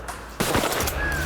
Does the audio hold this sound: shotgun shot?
yes